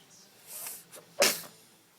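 A baby sneezes once, sharp and close, after soft breathy sniffs, in a quiet indoor room.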